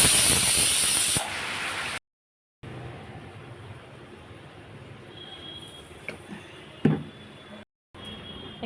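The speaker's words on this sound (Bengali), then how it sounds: "এখানে না আমি ঢেঁড়স রান্না করবো, ওই জন্য আমি কালো জিরে ফোড়ন দিলাম।" Black cumin seeds hit hot oil in a pan for cooking okra and give off a loud, steady sizzling hiss that soon drops to a quieter frying crackle with a few pops, then stops briefly and resumes.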